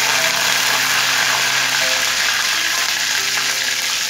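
Dried chilies, curry leaves and garlic fry in oil for fenugreek kuzhambu, making a loud, even, unbroken hiss that stays close and steady throughout.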